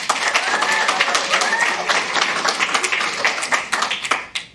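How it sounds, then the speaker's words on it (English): Applause and clapping from a large crowd at a packed park board meeting, dense and steady across the whole stretch with scattered sharper claps standing out. "give me 8 more seconds for that applause"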